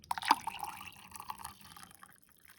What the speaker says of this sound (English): I fill it that far with my coffee concentrate.